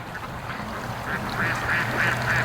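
Free-range ducks quack loudly and repeatedly in a noisy outdoor setting, the calls clustering into a rapid run of quacks in the second half.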